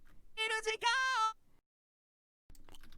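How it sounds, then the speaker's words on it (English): A synthetic UTAU singing voice sings a short phrase that bends noticeably upward in pitch, followed by silence and then a voice talking. "a bigger pitch up."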